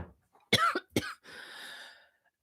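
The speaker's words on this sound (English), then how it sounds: "Now I have to cough." Two sharp, close coughs in quick succession, followed by a raspy breathy exhale, with quiet breath sounds before them.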